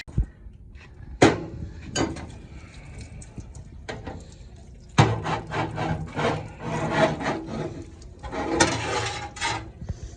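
A metal bar pushed through engine rocker arm shafts to clear out built-up crud and oil sludge, giving repeated rough scraping and grinding strokes in bursts, close up.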